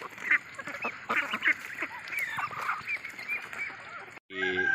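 Muscovy ducks, drakes among them, at a farm pond give repeated hoarse honks and quacks, some sharp and close, others overlapping in a busy flock chorus with soft background noise.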